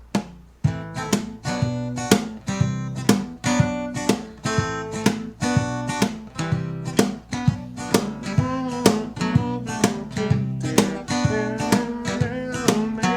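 A guitar strums the chord rhythm from the second half of the verse, crisp repeated strokes in a steady syncopated pattern, close and alone.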